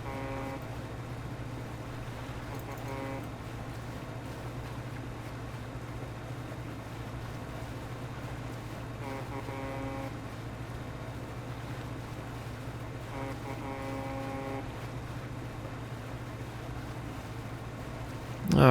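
Steady low engine drone of a fishing boat cruising through water in the video game Dredge, a constant hum with faint wash layered over it and no talk.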